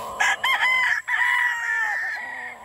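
A 10-month-old pure Boston Roundhead rooster crows loud and close. One strong call opens with a few short bursts and stretches into a long, drawn-out note that slowly fades.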